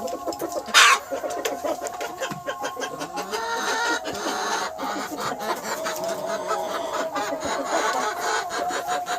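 A pure white desi chicken clucks and murmurs close by in a home yard, with a brief louder call early on and soft rustling throughout.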